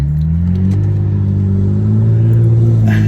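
Cadillac coupe engine revving while driving, a loud close rumble with rising and falling engine tones heard from inside the car and no talk.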